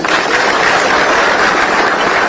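A crowd at an outdoor political rally in Kileleshwa, Nairobi, applauds a member of parliament with dense, continuous clapping that stays steady and loud throughout.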